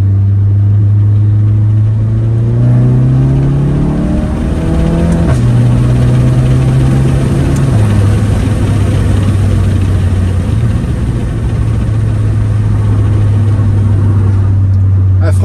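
A Volkswagen car with a stage 1 tune is driven at a steady pace, its engine a loud, continuous low drone that drops pitch in stages as gears shift, filling the whole stretch.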